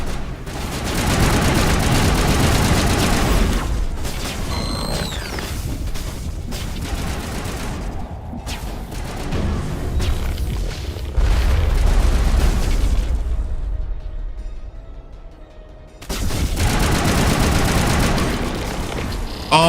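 Mass Effect Legendary Edition combat rumbles with repeated gunfire, sniper shots, booms and explosions, dense and loud with a brief quieter stretch before the shooting resumes.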